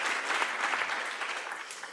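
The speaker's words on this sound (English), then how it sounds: "first, round of applause, please" Audience applause at a Nextcloud developer program presentation, a steady dense wash of clapping from a crowd held at an even level for about two seconds, with no voices over it.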